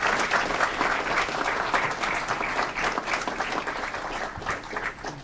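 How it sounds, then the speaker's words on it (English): An audience at an Aurora city council meeting gives a round of applause, with sustained, dense clapping that fills the room and fades slightly toward the end. "Let's give him another round of applause."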